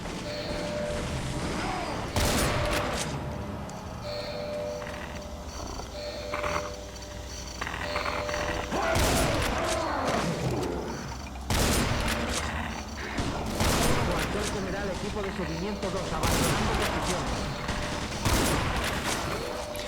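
Suppressed gunfire from a silenced weapon in the Brutal Doom game, a series of sharp shot bursts spread across the stretch, set against a steady game soundtrack with tonal music.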